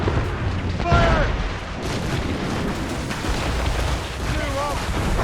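Cannon fire from ships in a naval battle in Assassin's Creed Rogue, with deep rumbling booms rolling under the ongoing din of combat as crewmen shout orders.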